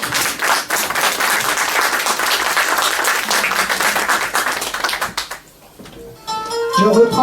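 Audience applause at a live music and light show in France, a dense, steady wash of many hands clapping for about five seconds, then fading as a voice begins speaking over the tail.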